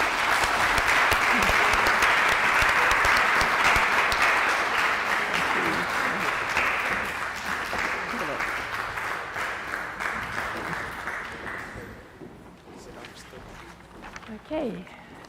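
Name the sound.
audience applause at an event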